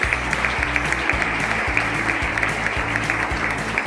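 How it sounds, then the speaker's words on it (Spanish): An audience applauds at a 2023 graduation ceremony at the San José school, with dense, even clapping over a low, pulsing musical background. "Un fuerte aplauso para Leire."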